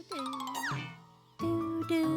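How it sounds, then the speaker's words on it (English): A telephone rings in a cartoon, giving bright chiming tones in two bursts separated by a short pause, loud and close, with tonal musical elements underneath. "Oh, that's the phone."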